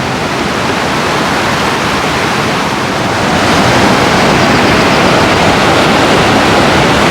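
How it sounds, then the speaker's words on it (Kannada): The Tunga river at Thirthahalli in Shimoga rushes hard over rocks, a loud, unbroken roar of churning water that grows slightly stronger partway through, with no voices. "ನದಿ ಹರಿವು ತುಂಬ ಇದೆ ಸ್ನೇಹಿತರೆ."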